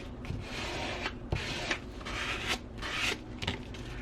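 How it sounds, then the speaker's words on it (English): A card is rubbed firmly across wet glue on a paper journal pocket, giving a close, continuous dry rasping and scraping in repeated back-and-forth strokes with short pauses between passes. "take one of my cards, kind of flatten all that glue out as flat as I can get it"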